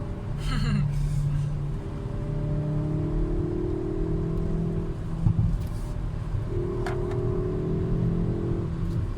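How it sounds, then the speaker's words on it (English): Hyundai i30N hot hatch with engine humming and revving, its exhaust giving a few sharp pops and bangs from the rear, heard under people talking in the car. "Couple more pops and bangs there as that from the back"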